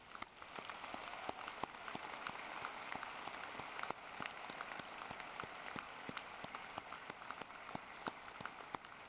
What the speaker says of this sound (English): Please give a round of applause for all of our active duty military stationed